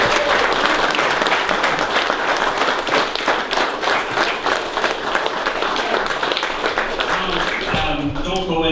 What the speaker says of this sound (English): I think we have a massive round of applause for Mary